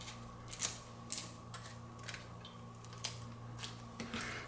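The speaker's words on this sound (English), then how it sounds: "Get rid of the peel. There goes the skin coming right off." Dry papery skin is peeled from an onion by hand in a kitchen, giving faint, crisp crackles and snips in an irregular run of short bursts, close by and quiet over a low steady hum.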